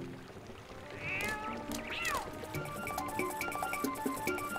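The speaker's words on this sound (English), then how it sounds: "That kitty's fast!" A cat in the Zelda Twilight Princess video game, set in Ordon Village, gives a couple of rising, squeaky meows over steady game background sound.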